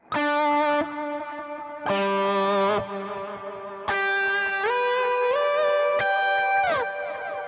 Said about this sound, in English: So yes, there's a lot of delay and there's a lot of reverb as well.